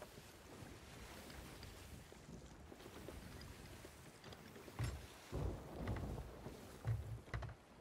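A thunder and lightning storm rolls over the sea in the video game Sea of Thieves. Constant low wind and wave rumble is broken by several heavier crackling bursts of thunder in the later seconds.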